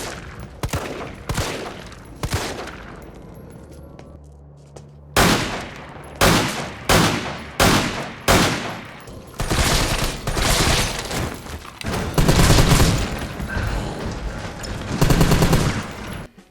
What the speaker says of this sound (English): install a sound mod for handguns and assault rifles